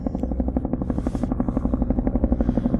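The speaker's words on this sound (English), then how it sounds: "We got a chopper" A helicopter flying high overhead near a beach and an abandoned concrete dock, its rotor thumping in a steady, rapid pulse with a continuous engine drone, fairly loud and alone.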